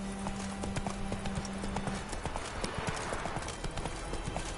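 Roach the horse galloping in The Witcher 3, a rapid, continuous clatter of hooves heard up close, with a low tone in the first seconds.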